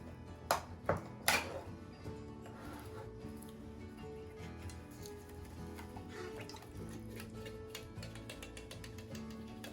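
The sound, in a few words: opening and pouring apple pie filling into baking dish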